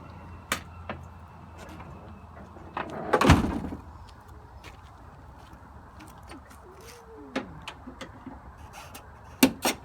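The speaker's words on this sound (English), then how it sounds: "We're going to check our service door." A school bus service door being worked during a pre-trip inspection, with one loud rattling clunk near the middle amid scattered softer clicks and knocks, followed by another sharp knock at the end.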